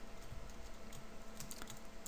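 Keys clatter steadily on a computer keyboard while Java code is entered, a quiet, even run of close clicks with no talking.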